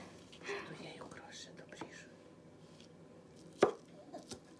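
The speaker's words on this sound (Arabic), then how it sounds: "والآن أمي تقطع البصل" A knife chopping onion on a board in a home kitchen, a few uneven cuts with one sharp knock, while a voice speaks softly nearby.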